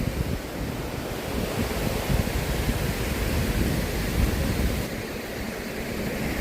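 A waterfall fountain in a Cincinnati city park near the Ohio River splashes in a steady, dense rush of water that holds at an even loudness throughout, with no voices.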